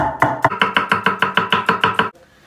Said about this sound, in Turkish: Sırasıyla bunları bir doğrayacağız.